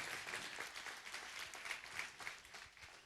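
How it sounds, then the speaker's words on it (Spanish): Faint applause from a church congregation, a soft continuous patter of many hands clapping, sounding distant and quiet. "Dale un aplauso a Jesús en esta hermosa tarde."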